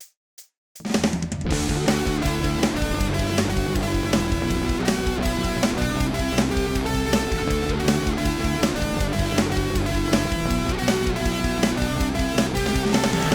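A full-band punk rock recording kicks in after a brief silent gap, with driving drums, distorted guitars and bass playing loud and steady throughout.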